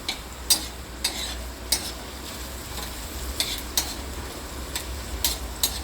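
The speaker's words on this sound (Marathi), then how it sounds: "कांदा पूर्ण भाजला पाहिजे नुसते कांदा भाजत आहे" Onion roasts on a tawa griddle while a spatula scrapes and stirs in regular strokes, sharp metallic scrapes recurring about every second over a low steady sizzle.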